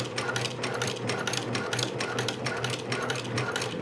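A home sewing machine runs a long topstitch seam across pants fabric, its needle mechanism chattering in a steady rapid rhythm with slight pulsing, close and moderately loud with no voices.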